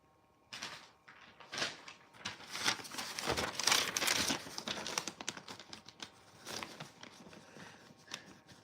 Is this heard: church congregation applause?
no